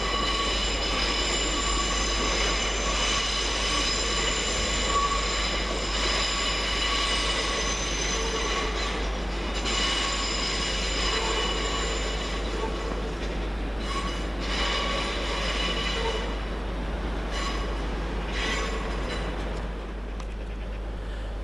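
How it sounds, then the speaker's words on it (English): A C2C Class 387 electric multiple unit, number 387306, draws into Reading station on a terminating service from Newbury, its steady traction hum and rolling wheels filling the platform with brief wheel squeals, fairly close and continuous throughout. "Arriving with a terminating service from Newbury is on hire from C2C unit 387306"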